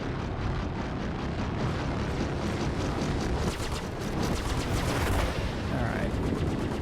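Rapid bursts of enemy gunfire in the space combat game Star Citizen, during a Vanduul swarm fight near asteroids, fill the scene with dense, continuous crackling shots layered over a loud, rumbling ship engine backdrop.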